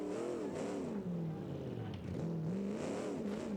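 A simulated car engine in the Automation game revs and drones continuously with wavering pitch, as if bouncing off the transmission's limits, steady and fairly faint with no talking.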